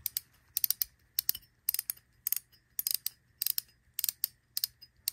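Bursts of rapid mechanical clicking from a 2022 Shimano Stella spinning reel's drag, a ratcheting buzz repeating about nine times in quick pulses with short pauses, close and fairly quiet.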